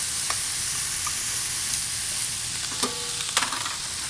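Carrots, onions, celery and garlic sauté in a pot with a steady bright sizzle, broken by a few scraping stirs of a utensil near the end, close and continuous with no talking.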